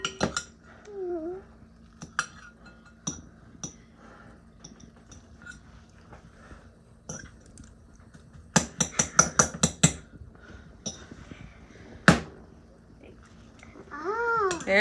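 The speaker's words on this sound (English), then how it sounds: "See, you have to use your whole fork and you push down." A fork presses and mashes bananas in a bowl for banana bread, giving scattered metallic clinks and a quick burst of scraping taps, with a voice and an adult talking in between.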